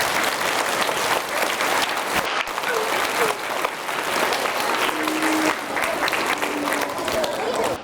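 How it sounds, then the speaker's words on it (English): Sustained loud applause from an elementary school audience fills the room, a dense, steady roar of clapping hands that continues without a break. "Give them a round of applause."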